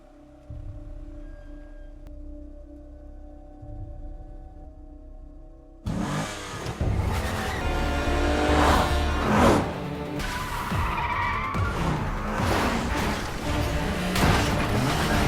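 A car speeds away during a film chase: after a quiet stretch, a sudden loud burst of engine revving and acceleration takes over, roaring and surging with mechanical clatter until the end.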